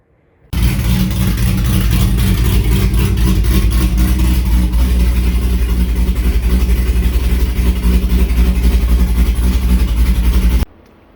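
A 2008 C6 Corvette with an X-pipe and dump exhaust fires up and holds a loud, raw, throaty rumble close by, steady for about ten seconds before cutting off abruptly.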